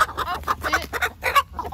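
Hens clucking in short, repeated bursts close by while being lured with flour to be caught gently, several birds overlapping in a busy, uneven rhythm.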